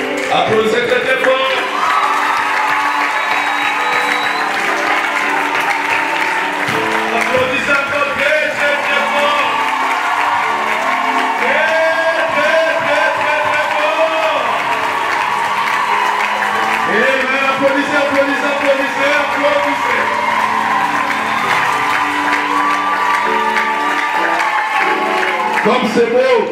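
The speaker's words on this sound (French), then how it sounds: "Applaudissez très fort pour les mariés." Guests at a wedding blessing clap and cheer for the bride and groom, with steady loud applause mixed with whoops and shouts from the crowd, continuing without pause over background music.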